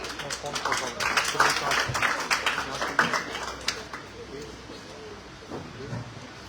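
Audience at a school poetry recitation contest applauds as the next contestant comes up: a crowd of hands claps for a few seconds, then thins and fades, with faint murmuring underneath.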